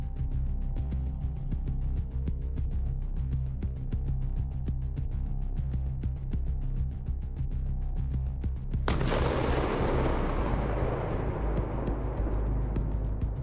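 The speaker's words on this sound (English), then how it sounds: "The first attack on the target causes a very serious explosion." An FPV kamikaze drone strikes a Russian vehicle in a combat zone, setting off a sudden loud explosion whose broadband roar follows a steady droning rumble and then sustains and slowly fades.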